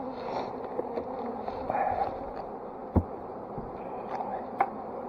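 Honey bees buzzing around beehives, a continuous low drone from many insects nearby with a few soft knocks and handling sounds over it.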